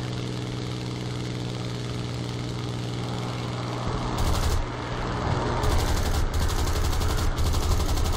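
Machine gun fire in War Thunder, set against the steady drone of a Hurricane Mk. IIB fighter's engine, with short loud bursts arriving repeatedly during the second half.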